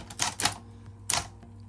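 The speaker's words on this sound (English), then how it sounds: "The carriage on this is also powered." Smith Corona Citation electric typewriter, a Power Correct XT model, with its powered carriage return: a few sharp mechanical clacks and whirring bursts in quick succession, close and fairly quiet, with no voice.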